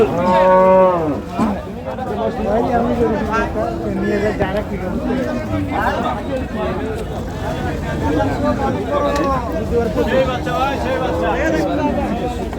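Several dairy cows and calves moo loudly amid a busy crowd at Raniganj cattle market, Dinajpur, with people chattering and calling out prices throughout.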